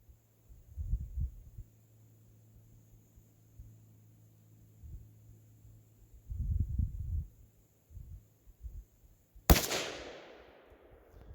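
A single sharp gunshot from a Savage 93G .22 Magnum rifle with an AccuTrigger cracks near the end of a quiet outdoor stretch, followed by a short decaying echo, with low rumbling thumps and hum before it.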